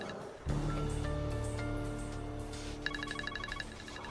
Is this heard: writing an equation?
no